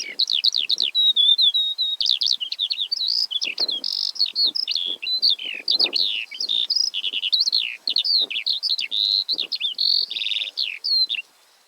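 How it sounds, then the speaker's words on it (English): A skylark sings a long, rapid, warbling song of high chirps and trills, close and clear, running continuously before stopping abruptly near the end. "the lark's beautiful song that these birds sing all day, even while they are in flight"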